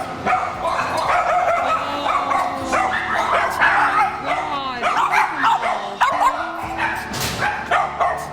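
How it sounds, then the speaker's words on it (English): Several puppies up for adoption bark and yip excitedly in overlapping bursts, with occasional whimpers, while a person talks nearby. "So these are all puppies up for adoption."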